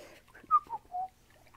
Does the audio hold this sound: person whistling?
yes